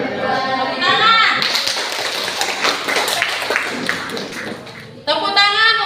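A classroom of students claps hands in sustained, dense applause lasting a few seconds, with voices speaking just before and after.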